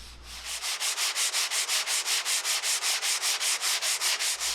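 Rhythmic rough sanding of a wooden pizza peel with sandpaper, a steady back-and-forth rasp repeating about five times a second, close and loud.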